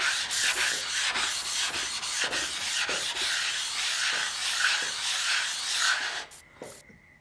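Two rough-faced granite blocks rubbed against each other to grind them flat give a steady, close, gritty scraping in repeated strokes that continues for several seconds before tapering off near the end.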